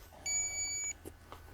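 A single short electronic beep, clear and fairly close, followed by faint clicks and handling noise.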